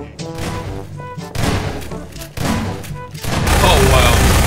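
Gunfire bursts from a Garry's Mod Prop Hunt match, several loud volleys spread across a few seconds, with players talking over and between the shots.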